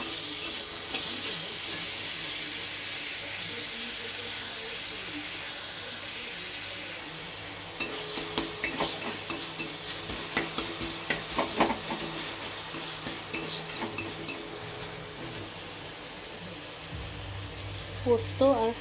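Green chilli, nigella seeds, tomato and salt fry in a little oil with a constant close sizzle and hiss, while a spoon stirs and scrapes intermittently and a voice talks over the cooking.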